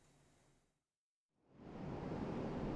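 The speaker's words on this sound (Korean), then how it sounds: "강한 바람에 파도가 무섭게 일렁이고 해변에 물이 차오르자" Strong wind-driven waves surging onto a beach during tropical storm Alberto, heard as a broad roaring wash that cuts out briefly and then swells back loud and sustained.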